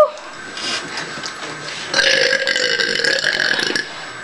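A long, loud belch during a burping contest, rumbling on for several seconds and swelling in strength midway before trailing off.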